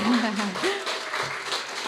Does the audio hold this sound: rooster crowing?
no